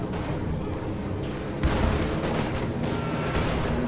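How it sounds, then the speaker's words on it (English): A high explosive artillery barrage in a World War II strategy game, with rolling booms and crackling impacts forming a dense, loud roar and a sharper blast partway through. "High explosive barrage going off on those grenadiers."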